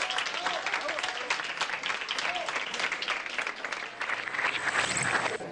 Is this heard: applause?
yes